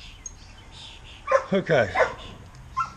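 Dogs outdoors in a yard give a short burst of several barks and yips in quick succession, fairly close and loud, and a person speaks briefly.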